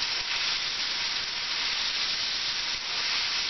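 Roast meat sears in a hot pan, giving a steady, dense sizzling hiss that holds evenly throughout, close and with no voices.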